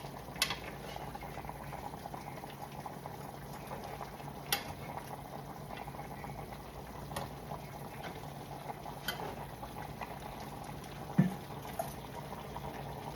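Rice and peas simmer in a pot with little water, making a steady soft bubbling and crackle with occasional pops, close and low in level, with no talk over it.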